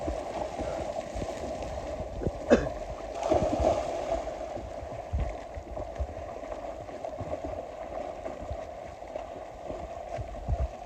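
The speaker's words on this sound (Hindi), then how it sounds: "अपने पास एक बोट आ चुकी है" A boat rocking on water during boarding, with a steady low wash and gurgle of water, a sharp knock or thud near the start and a few small bumps as people climb in, all fairly close.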